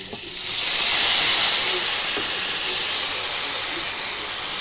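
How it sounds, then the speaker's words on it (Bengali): Water pours into a hot pan of spiced fish curry with turmeric, green chilli and ginger paste. It sets off a loud, broad, continuous hiss of steam that swells quickly and holds steady. "জল ঢেলে দিলাম।"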